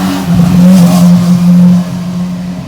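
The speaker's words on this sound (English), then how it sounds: "And here goes the motorcycle coming by." A motorcycle passes nearby outdoors with a loud, steady engine drone that swells and then fades as it moves away.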